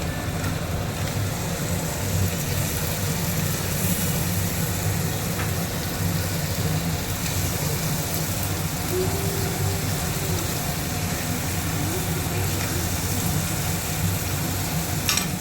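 Tomatoes go into frying mutton curry, with a steady, even sizzle and bubbling hiss filling the pan continuously for about fifteen seconds, close and moderately loud.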